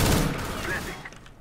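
Rapid gunfire from a Negev machine gun in a video game, a dense loud burst at first that thins and fades, with voices faintly mixed in.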